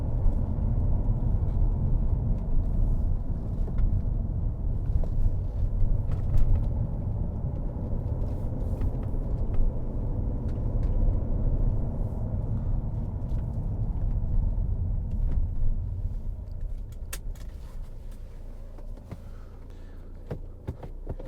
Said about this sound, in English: it's for a diesel, it's a nice sounding vehicle.